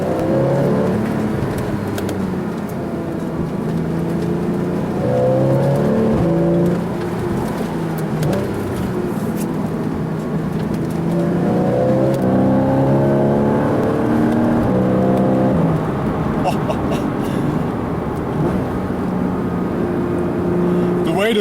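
A 2012/2013 Porsche Boxster S PDK (981) on optional 20-inch Carrera wheels and tires drives along with a continuous engine drone, rising and falling as it shifts through gears, with someone talking over it.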